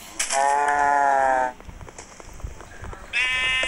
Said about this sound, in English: Wait, another sheep.